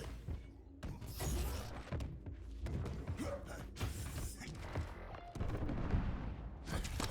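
Grenade explosions striking a turret in a Quake match, a dense run of booming blasts and crackling impacts layered over continuous game action and clatter, loud and sustained throughout.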